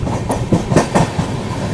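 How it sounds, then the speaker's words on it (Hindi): Sealdah Rajdhani Express passes at speed near Barddhaman Junction, a loud close rush of railcars with rhythmic clickety-clack of wheels over rail joints. "और यहाँ पर अभी अपनी सियालदह राजधानी एक्सप्रेस ओवरटेक करने वाली है।"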